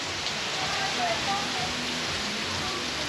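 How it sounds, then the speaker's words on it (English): Steady heavy rain hisses in a dense, even wash outdoors at Celebration Key, a cruise port, with faint talking underneath. "as you can tell, it's raining like a cow pissing on a flat rock out here."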